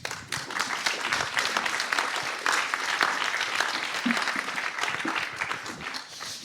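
An audience applauding to welcome a speaker at a French welcome address, steady dense clapping from a crowd that holds at an even level throughout, fairly close.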